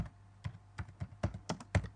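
A folder name is typed on a computer keyboard: about eight crisp, evenly spaced keystrokes in two seconds, close and fairly quiet, alone.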